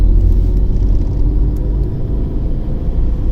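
A 2022 Tata Tigor CNG running on compressed natural gas gives a steady, loud low engine and road rumble from inside the cabin, constant throughout with no voices.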